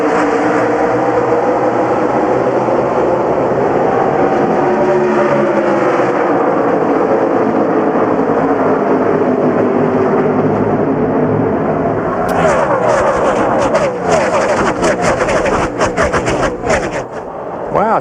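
A pack of NASCAR stock cars roars around Texas Motor Speedway at the Dickies 500, a loud, continuous engine drone with rising and falling passes, becoming choppier near the end, under a race commentator's talk.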